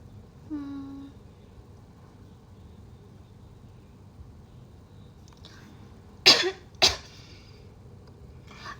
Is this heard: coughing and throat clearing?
yes